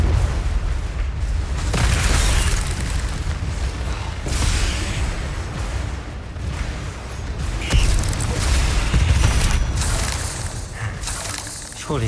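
Confringo spell explosions in the video game Hogwarts Legacy, a series of booming blasts and bursts amid combat noise, loud and close, with a voice speaking over parts of it.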